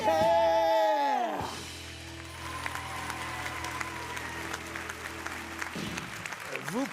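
Audience applause and crowd noise swell after the last sung note of a live stage performance of a song, a sustained clapping that carries on for several seconds.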